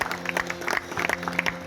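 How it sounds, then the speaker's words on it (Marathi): Audience clapping in appreciation of the villagers at a traditional bhajan devotional singing program, a dense, steady patter of many hands heard alone across the short stretch. "या ग्रामस्थांसाठी एकदा जोरदार टाळ्या वाजवा."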